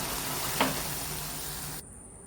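Coriander leaf curry boiling in a pot on the stove, giving a steady, close hiss of bubbling and sizzling with one brief pop. The sound cuts off sharply near the end, leaving faint low noise.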